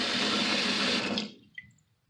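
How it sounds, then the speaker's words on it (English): Running water pours into a kitchen sink, a loud steady rush that stops abruptly partway through, leaving a few faint drips and trickles in the quiet after. "the sink is quite filled up with water"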